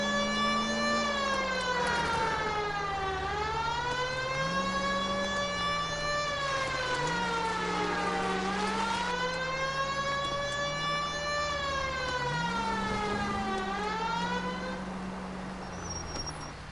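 Police car sirens in the video game L.A. Noire wail loud and steady, rising and falling in long sweeping cycles that repeat across the whole stretch, with no talk over them.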